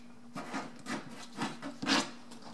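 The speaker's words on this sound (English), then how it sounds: "I'm using a scrub brush right here" A scrub brush scrapes across a PVC blackout-cloth projector screen in about five short, rough strokes, fairly close and moderately loud, with the last stroke the strongest.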